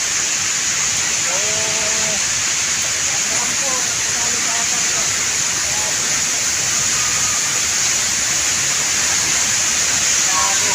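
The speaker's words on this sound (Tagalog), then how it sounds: "Ito nga yung Giant Falls." Giant Falls at Lake Sebu roars as a steady, loud wash of falling water throughout, while faint voices are heard beneath it.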